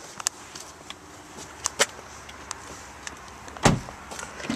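A single solid thump of a Volkswagen car door shutting stands out near the end, after a few softer clicks and rustles in a quiet interior.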